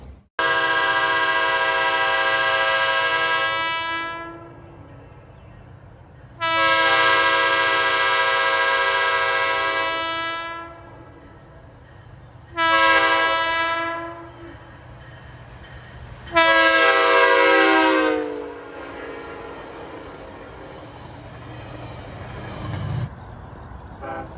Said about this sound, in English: You heard the horn of train 39 en route from Spionk to Penn Station.